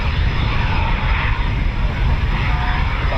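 A Eurofighter Typhoon FGR4 jet taxiing at an RAF QRA station, a steady, loud broadband engine roar with a hissing whine, continuous and unchanging throughout.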